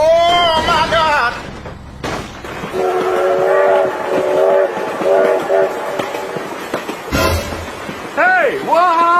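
A train in the BeamNG.drive video game rumbles past with a loud, sustained horn blast, while excited voices shout over the top throughout.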